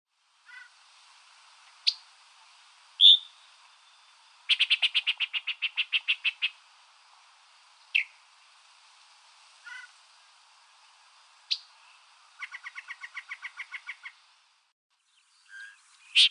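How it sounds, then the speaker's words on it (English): A yellow-breasted chat sings a varied song of scattered whistles, single chips and rapid rattling series of notes, with pauses between phrases, clear and alone against faint background. "Yellow-breasted chat."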